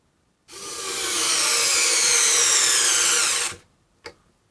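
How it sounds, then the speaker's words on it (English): A compact Cobalt battery-powered screwdriver drives a screw into wood: one steady high motor whir of about three seconds that cuts off abruptly, followed by a short click. "let's get the Cobalt lined up here, and we'll run our screw in"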